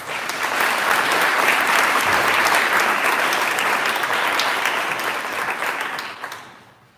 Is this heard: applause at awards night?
yes